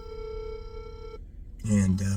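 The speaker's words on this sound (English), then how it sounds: "Let me get rid of that phone call." A telephone rings during an interview, a steady electronic ring tone lasting about a second before cutting off, followed by a voice speaking.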